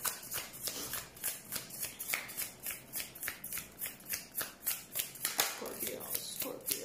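Tarot cards shuffled by hand for a reading, a brisk run of about twenty riffling bursts in steady rhythm, close and clear with no talking.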